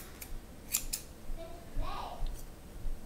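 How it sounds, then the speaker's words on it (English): Scissors trimming a yarn pom-pom, a few quick crisp snips close up followed by a soft rustle of yarn, quiet and separated by short pauses. "as you're trimming your pom-pom, do be sure to pause and make sure maybe you want to cut at a rounded angle"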